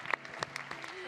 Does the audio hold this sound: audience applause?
yes